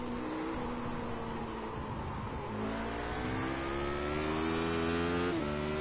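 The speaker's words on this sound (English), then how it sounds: "that was a better timing going down into third on that one, not over revving the engine" A race car engine in the iRacing sim drops down to third gear, with a steady high engine whine that dips at the shift and then climbs again as the revs rise, loud and close.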